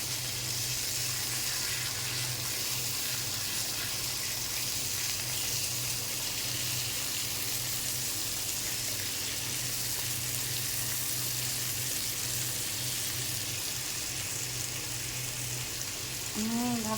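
Rohu fish pieces sizzling in a pan just after being flipped, a steady even hiss of frying oil that holds without break, close and moderately loud.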